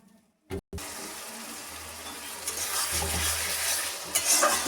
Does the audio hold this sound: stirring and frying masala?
yes